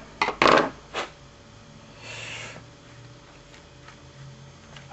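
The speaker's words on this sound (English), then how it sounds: "Use my screwdriver." A screwdriver cleaning the primer pocket of a .45 cartridge case: a few sharp metallic clicks and taps close by, then a brief soft scrape and quiet background.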